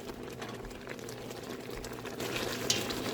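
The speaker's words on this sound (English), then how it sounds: "we're just going to keep cooking this down, stirring it until the apples are soft and the cranberries have all cooked down and popped open" Apples and cranberries simmer down in a pot for winter jam, a steady bubbling and spitting boil with faint stirring, close and continuous, with a small clink near the end.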